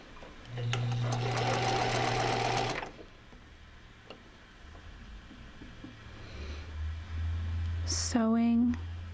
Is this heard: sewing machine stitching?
yes